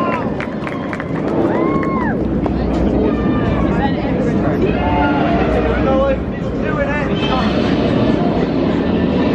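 Roller coaster train on its final run of the Nemesis ride at Alton Towers, a loud continuous rumbling roar of wheels on track with screeching squeals, while a crowd cheers and people shout nearby.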